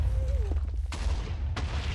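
Explosions go off in the block-building game Minecraft, two sharp booms about half a second apart, each followed by a rumbling tail, with a brief tone sounding just before.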